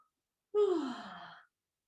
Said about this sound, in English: maybe a yawn here